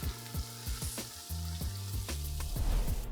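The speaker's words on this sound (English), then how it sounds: "Let's cover this and cook it on a low flame for 10 to 15 minutes." Mutton barrah kebabs frying on a tawa over a low flame, a steady close sizzle with soft stirring and scraping knocks, no voices.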